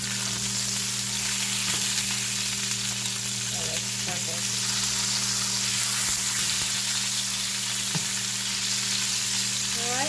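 Pork chops fry in a pan with a loud, steady sizzle and crackle throughout, with occasional faint clinks of a utensil.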